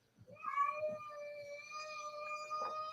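A cat lets out a long, drawn-out complaining meow close by, rising in at the start and holding a steady wavering pitch for a few seconds with no talk over it.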